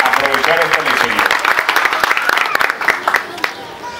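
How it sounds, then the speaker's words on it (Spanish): Applause from an audience at the inauguration of a dairy in La Luz, Pajacuarán, with clapping mixed under a loud, ongoing voice and crowd noise that tapers off near the end. "Un aplauso para todas ustedes que son las que van a aprovechar esta lechería."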